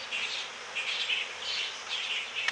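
A swarm of honey bees buzzes steadily and close by, a dense drone pulsing in soft waves with no voices over it.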